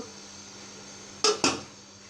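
A lid set onto a pot of koi fish curry cooked with tender stalks and small local potatoes, two sharp metallic clanks in quick succession, close and without talk.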